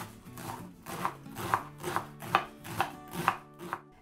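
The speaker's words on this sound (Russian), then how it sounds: "Пекинскую капусту промываю, обсушиваю и достаточно мелко нарезаю." A knife finely chops washed, dried napa cabbage on a board, about eight crisp, evenly spaced strokes in a steady rhythm, close and clear with no talking.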